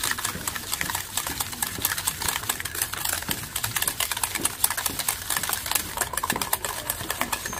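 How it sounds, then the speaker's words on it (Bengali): Egg and sugar being whisked together in a bowl make a fast, steady clatter of rapid ticking strokes, close and continuous with no talking. "খুব ভালো করে এটা ফেটিয়ে নেব যতক্ষণ না চিনিটা ভালো করে গুলে যাচ্ছে ডিমের সাথে"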